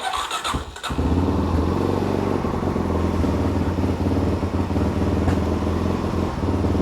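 A Suzuki DRZ400 dirt bike engine catches after a brief sputter and settles into a steady, loud idle that runs unbroken to the end.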